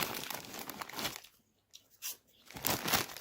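A bag of Lulu cheese-flavoured snacks is crinkled and torn open: loud, close crackling plastic, a short quiet pause, then further sharp crinkles and rustles of the packet.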